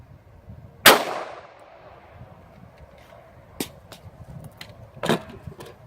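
One sharp, loud gunshot as a 150 grain hollow point round is fired into a book bag, followed by a ringing decay and a few fainter clanks and snaps later on.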